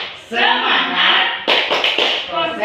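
Teachers at a workshop perform the tepuk semangat spirit clap. A run of quick, crisp claps follows a loud stretch of group voices, all heard close by.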